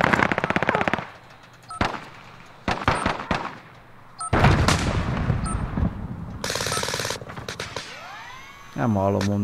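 Bursts of automatic gunfire and single shots in the Warzone video game, loud and close, in rapid clusters separated by short pauses, with game effects and a voice speaking between volleys.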